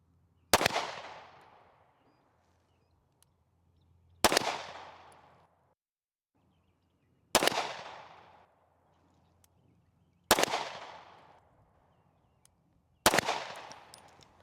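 Five Taurus handgun shots fired at a range target, each a sharp loud crack with a decaying tail, spaced roughly three seconds apart with quiet between them.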